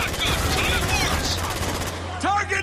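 Rapid bursts of automatic gunfire crackle in the video game Spec Ops: The Line, a dense volley filling most of the moment, with a player shouting excitedly over it and a short voice exclamation near the end.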